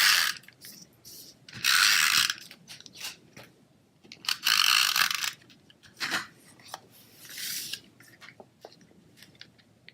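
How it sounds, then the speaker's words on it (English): A SNAIL adhesive tape runner is rolled across Bermuda Bay card stock in several bursts of close, ratcheting clicks, separated by short pauses and quieter handling noises. "So I'm just going to put some SNAIL adhesive down."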